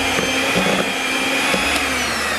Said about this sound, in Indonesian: kalau pakai mixer, jangan dipaksa, nanti mixernya cepat rusak.